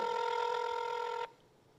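A telephone ringback tone sounds steadily while a prize winner is called, a single sustained electronic buzz lasting over a second before cutting off to quiet.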